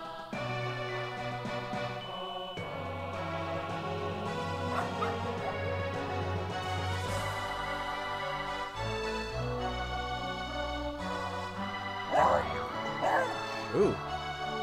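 A dog barks a few times in a western RPG video game, the yips set over steady game music with a speaking voice.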